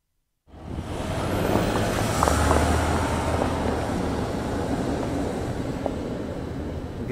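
A 4.4-litre V8 diesel Range Rover from 2013 drives with a steady, broad low engine rumble and road roar, starting abruptly after a brief silence and holding constant throughout without speech.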